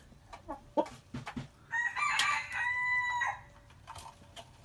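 A Brahma rooster crows once, loud and fairly close, a drawn-out cock-a-doodle call lasting over a second, preceded by a few short clucks and soft farmyard noises.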